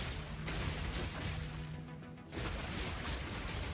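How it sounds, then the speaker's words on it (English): Big spell explosions from a character build in Path of Exile 2, a dense, continuous wash of crashing blasts and impacts with a brief dip before the barrage resumes. "So, such big explosions."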